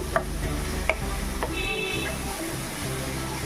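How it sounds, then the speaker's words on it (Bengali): Onion and spice masala being stir-fried in a pan for chicken curry, with a soft continuous sizzle, a few sharp spatula scrapes and knocks near the start, and a low steady hum underneath, with no talk. "দেখুন ভালো করে একটু কষিয়ে নিচ্ছি"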